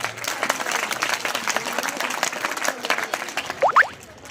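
A crowd of schoolchildren and staff claps at a government school career fair, producing dense, steady applause across the whole stretch, with a couple of brief whistle-like chirps near the end before it starts to fade.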